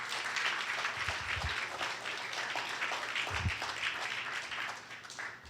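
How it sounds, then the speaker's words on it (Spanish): Congregation applauding during a church worship service, a steady wash of clapping across the room with a few low thumps, moderately loud throughout. "Eso merece un aplauso al Señor"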